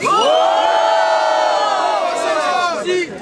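A large crowd at a freestyle rap battle cheers and shouts loudly and continuously, with whoops and yells rising together before tapering slightly near the end.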